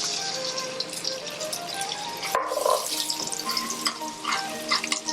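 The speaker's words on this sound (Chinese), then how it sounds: "赶快再先给它炒香，炒香一点" Chicken stir-fried in hot oil for a chicken mapo tofu dish, a steady close sizzle with scraping stir sounds and a few drips, no talk over it.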